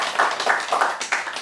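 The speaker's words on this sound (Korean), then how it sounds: "선배님들은 67기생 문문관 나왔으니까 박수 한번 쳐주세요." A lecture audience at an education center claps in a pulsing, roughly rhythmic pattern, with the bursts close and fairly loud.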